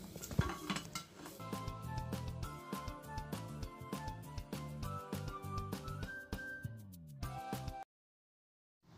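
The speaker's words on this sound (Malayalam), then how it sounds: "ഇപ്പോൾ ഇത് ചെറുതായിട്ട് പൊട്ടി തുടങ്ങാനായിട്ട് തുടങ്ങിയിട്ടുണ്ട്." Popcorn kernels pop inside a closed pressure cooker on the stove as a dense run of sharp, irregular metallic pops and clinks. The popping stops abruptly near the end.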